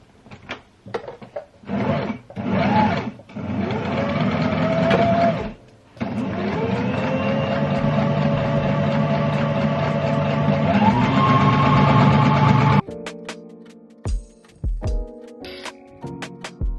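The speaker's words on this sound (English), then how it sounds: "Time to sew again." A domestic sewing machine stitches in short bursts and then in one long steady run, a close whirring motor hum that changes pitch as it speeds up. Afterwards come a few handling clicks and knocks in a quiet room.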